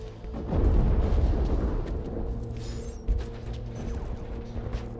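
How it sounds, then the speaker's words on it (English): Muffled combat in the video game Warhammer 40K Inquisitor, with gunfire, deep booming impacts and mechanical clatter, loud at first then steadier, with a sharp burst around the middle. "Oh shit, gunfire."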